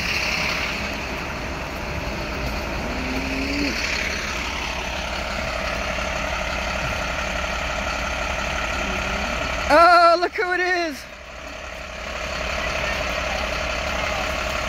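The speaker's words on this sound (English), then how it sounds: "I hear that school bus." School bus idling at a rural homestead gate, a steady low engine rumble throughout, with a short burst of brake hiss and squeal partway through and a brief spoken greeting.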